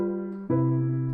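Jazz 2-5-1 progression voiced with only thirds and sevenths: a sustained two-note chord shifts with a sharp attack to the next held chord, clear and fairly loud with no talking.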